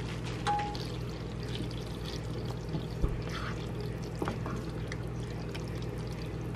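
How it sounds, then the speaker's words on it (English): Cooked noodles for baked mac and cheese poured into a pot of cheese sauce, a steady soft wet pouring and sliding sound lasting several seconds over a low stovetop hum, close and fairly quiet. "add your noodles to the cheese sauce"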